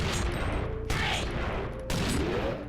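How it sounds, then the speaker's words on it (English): Rocket explosions and gunfire from the video game Iji, with two sharp bursts about a second apart, each followed by a ringing, decaying tail over a constant loud game background. "So that's one of his rockets."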